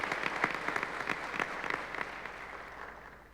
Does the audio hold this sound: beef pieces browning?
no